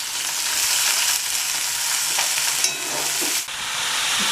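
Shredded cabbage with fried spices and green chilies hisses in a pan for a rohu fish-head cabbage curry, a steady close sizzle broken by brief scraping stirs, with no voices.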